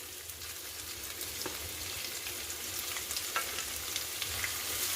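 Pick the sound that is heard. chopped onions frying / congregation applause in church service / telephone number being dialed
chopped onions frying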